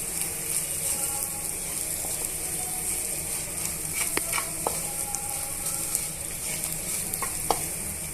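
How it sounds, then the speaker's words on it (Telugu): Beaten eggs mixed with turmeric frying in a pan, a continuous close sizzle with repeated spatula scrapes and occasional light clicks against the metal, steady throughout with no voices. "ఇలా అంతా ఎగ్ బాగా ఫ్రై అయిపోయిందండి"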